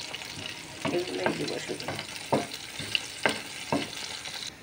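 Crushed garlic frying in hot oil for a tempering, a steady close sizzle with several louder crackling bursts from stirring, while someone speaks briefly over it.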